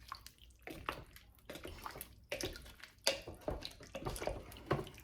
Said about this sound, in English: And then we're going to give it a stir.